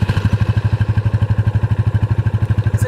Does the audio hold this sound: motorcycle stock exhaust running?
yes